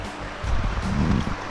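Bear Creek flows at a campground in Mendocino National Forest, a steady low rushing of water with a gentle swell in the middle, close by and heard alone.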